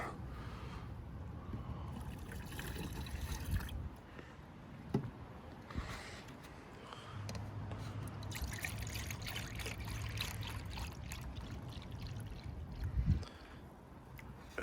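Liquid fertilizer is poured out by the 12-ounce cup for spring feeding, giving a faint, steady trickle of running liquid with a couple of soft knocks.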